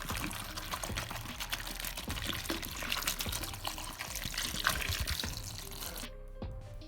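Salted water, a large spoonful of salt per litre, pours steadily over eggplants set to soak, a continuous splashing wash that runs alone for about six seconds before cutting off abruptly.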